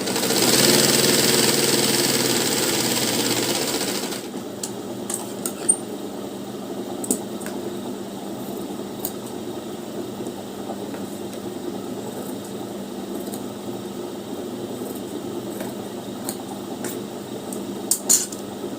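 A sewing machine stitching a lined blouse runs with a loud steady whir for about four seconds, then stops, leaving faint ticks and small clicks of the machine and fabric handling close by.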